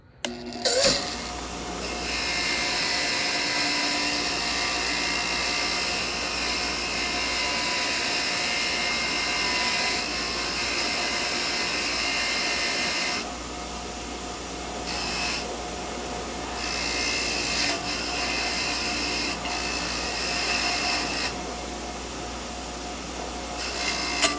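A bench grinding wheel whirs steadily while an engine intake valve is worked against it, a loud continuous close-up rushing drone with slight shifts in pitch and texture as the valve is pressed and moved.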